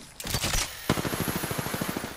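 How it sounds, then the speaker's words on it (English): Automatic weapon fire in the shooter game Apex Legends, a short opening burst followed by a rapid, even string of loud close shots. "Somebody was shooting."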